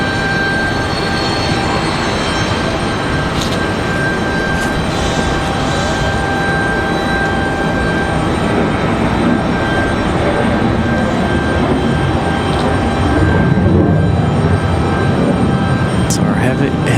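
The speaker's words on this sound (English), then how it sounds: "That is American Airlines 2343 headed to LA." An American Airlines jet airliner bound for Los Angeles roars steadily through its takeoff at a windy Raleigh-Durham airport, a continuous loud broadband rumble with wind noise and a talking voice over it.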